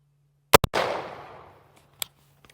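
A single rifle shot fired while zeroing at a 10-yard target: a sharp, loud crack followed by a broad, decaying roar, with a couple of fainter clicks afterward.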